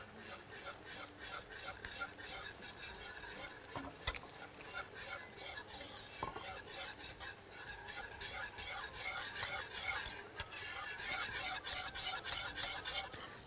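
A spoon scrapes and stirs a pot of kishk as meat broth is slowly added, a steady soft rasping churn with occasional clinks against the pot, heard close under a faint background hum.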